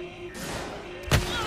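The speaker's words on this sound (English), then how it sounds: "I died to a gunshot and I got scared." A single sharp gunshot blast from the Fortnite video game cuts in suddenly over busy game audio and background noise, brief and loud against the ongoing mix.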